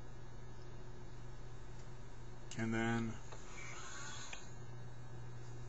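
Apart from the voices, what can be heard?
1983 RCA Selectavision video disc player aligning stylus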